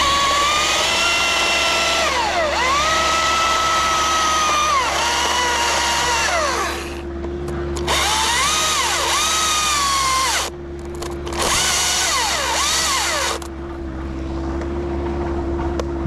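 A chainsaw cuts through a dead standing tree, the engine note rising and falling in long revving passes with short drops between cuts, loud and close, with no talk.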